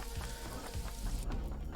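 Rain falls steadily in the video game Paradise Killer, a dense hiss of drops with low rumbling underneath and soft thuds, heard alone without any voices.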